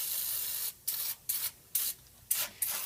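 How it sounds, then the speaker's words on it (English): Spray can coating a cast iron pan during restoration: several short hissing bursts, each about a third of a second, separated by brief pauses, close and fairly loud. "You're going to shake your can up and make a nice thick coating all over."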